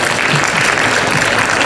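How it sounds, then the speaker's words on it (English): Loud, dense applause from an audience at a skincare presentation, a continuous, close wash of many hands clapping with no pauses. "A big round of applause for Mr. Trevor Steyn, Esse Organics."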